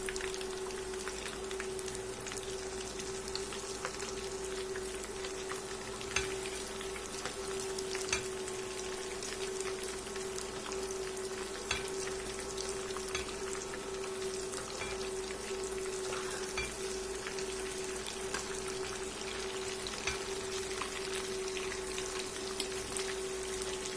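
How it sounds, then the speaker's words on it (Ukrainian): Pirozhki with mushroom and liver filling fry in a skillet after being flipped, giving a faint, even, continuous sizzle with a low steady hum and occasional soft pops throughout. "І до такого стану засмажуємо з двох сторін."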